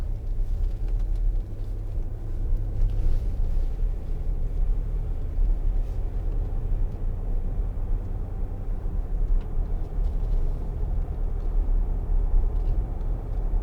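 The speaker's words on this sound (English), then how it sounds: "Air suspension soaks up all the bumps. And it is a bumpy road along here." Land Rover Discovery 3 2.7 TD V6 HSE with air suspension driving along a bumpy road, heard from inside the cabin as a steady, loud low engine and road rumble with no talk.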